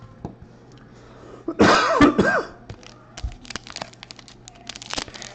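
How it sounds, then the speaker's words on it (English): A burst of harsh, raspy coughing close to the microphone from a person recovering from anesthesia, a couple of hacking coughs followed by scattered crackly rustling. "Still have a lot of anesthesia in my lungs, so I'm coughing a lot"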